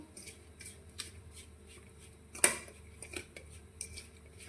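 A metal spoon mixes ground spices and powdered sugar into a spice blend for pointed gourd curry. It makes repeated close, bright clinks and scrapes against the dish at an uneven rhythm, with one sharper knock partway through.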